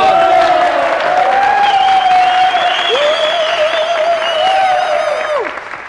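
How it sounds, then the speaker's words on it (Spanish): A crowd applauds and cheers at a perreo dance contest, with a loud sustained whistle or tonal sound gliding over the steady clapping. "¡Un aplauso, por favor!"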